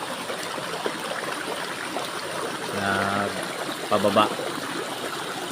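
Continuous rushing of flowing stream water fills the scene, with a couple of brief spoken words over it.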